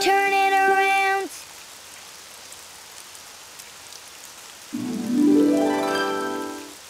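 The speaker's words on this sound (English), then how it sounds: "It's raining outside." Steady rain falls outside as a continuous hiss throughout, with tonal melodic notes, like singing or music, sounding at the start and again near the end over it.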